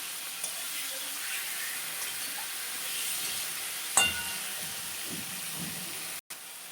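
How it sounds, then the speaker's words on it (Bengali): Bombay duck fish stirred gently in a pan while cooking, a soft steady sizzle with faint scraping and one sharp clink from a utensil, no talking. "লোটে মাছ দিয়ে আস্তে আস্তে নেড়ে দেব"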